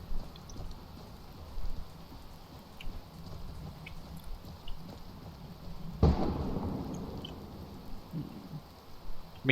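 Thunderstorm with rain in modded Skyrim: steady rainfall patter throughout with a loud rolling thunder crack near the middle that rumbles and fades, no voices.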